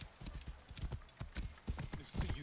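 Horse hooves in Assassin's Creed Origins gallop in a fast, steady clip-clop rhythm, loud and close, with brief voice fragments mixed among the hoofbeats.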